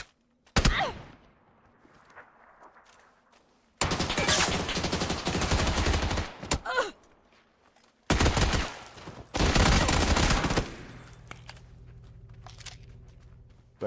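PUBG gunfire comes in loud, dense automatic bursts separated by quieter gaps with a single sharp shot early on, close and dominant, with no talking.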